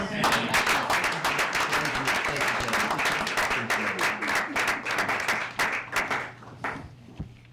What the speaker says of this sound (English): I think that calls for applause.